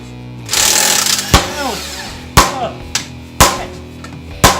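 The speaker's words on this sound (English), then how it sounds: "Normally you want to use a hammer, but we have an axe, so what we'll use." An axe hammers a car wheel rim, giving sharp, loud metallic strikes in an uneven series, about five blows with ringing decay after each and a rougher scraping clatter near the start.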